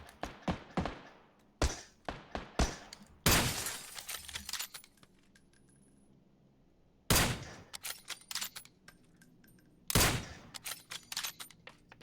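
Gunfire in a multiplayer shooter video game: sharp bursts of shots come in clusters, with loud volleys around the start and end and a quieter stretch in between, and no talking.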